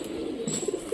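A Giribaz pigeon of an old Rajshahi breed gives a single short, low coo, fairly quiet against faint background noise.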